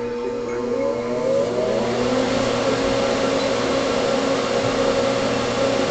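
A DEC RA82 disk drive's spindle motor powers on, its whine rising steadily in pitch as it spins up, over a constant loud hum and fan-like rush.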